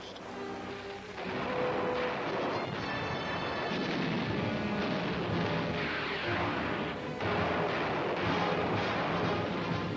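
Heavy live-ammunition gunfire and blasts rumble through a mock invasion battle, dense and continuous after a quieter opening second, with booming reports layered over a steady din.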